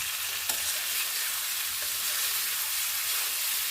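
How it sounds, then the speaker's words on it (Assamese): Fried potatoes stir-fried with spices for aloo dum, giving a continuous close sizzle with occasional spatula scrapes against the pan. "আকৌ মই 5 মিনিটমান এনেকৈ লৰাই ভাজি থাকিম।"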